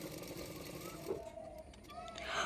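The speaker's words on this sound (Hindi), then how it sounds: "तो जैसे जैसे मैंने मार्किंग किया था ना वैसे वैसे मैं सिलाई कर रही हूँ।" A sewing machine stitches tucks on a blouse, a short steady mechanical whirr that runs through the whole moment, fairly close and uninterrupted.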